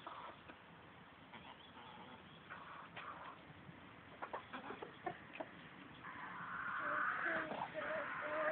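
A hen perched on top of a pizza before hopping down clucks in short bursts, with a few sharper calls building toward the end, fairly close, over low background noise.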